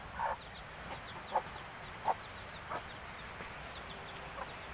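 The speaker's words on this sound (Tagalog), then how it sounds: "papakita ko na po sa inyo yung nahuli kong ibon" A bird caught in a homemade bird trap gives short, sharp calls about once a second, fairly faint against a steady hiss of outdoor background noise, with no talking.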